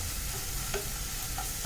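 Carrots and beans sauté in a pan for oats upma, giving a steady close sizzle with a light stir scrape partway through; no voices.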